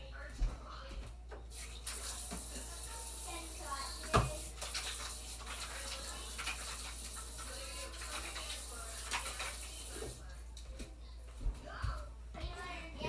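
Tap water runs steadily while hands are washed during bread shaping, a continuous broad hiss lasting throughout with a few light clinks and faint voices underneath.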